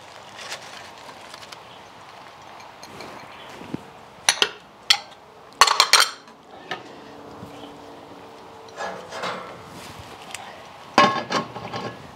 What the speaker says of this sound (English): The lid goes on.